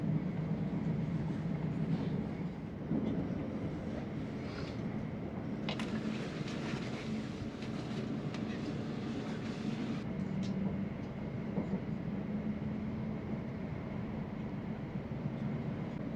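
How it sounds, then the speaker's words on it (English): Steady rumble and rattle inside a passenger train nearing its London Liverpool Street terminus after passing Stratford, continuous and fairly loud throughout with no voices. "We are now approaching London Liverpool Street, where this train terminates."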